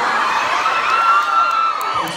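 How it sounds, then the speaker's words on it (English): Loud concert crowd cheering and screaming after a show in Austin, Texas, a dense, sustained roar of high voices with a few whoops rising above it throughout. "This is the crowd."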